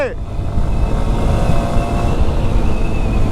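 A Honda Hornet 2.0 motorcycle running low on fuel revs under hard throttle, a steady, loud engine drone that holds and sputters slightly, heard close up with no talk over it.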